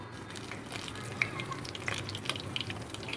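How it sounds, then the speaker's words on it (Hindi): Aloo tikki shallow frying in oil over a medium flame, giving a steady close sizzle and crackle with a few sharper pops and spits throughout. "मैं शैलो फ्राई कर रही हूँ।"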